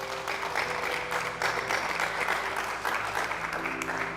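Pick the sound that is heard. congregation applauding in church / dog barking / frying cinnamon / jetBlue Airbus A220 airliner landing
congregation applauding in church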